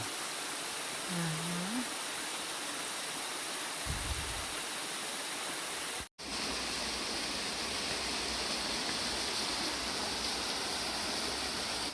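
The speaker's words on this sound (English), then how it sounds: "Up the waterfall." Steady roar of a waterfall beside a steep mountain trail in New Hampshire, broadband and constant throughout, with a brief voice and a short thump early on and a momentary dropout midway.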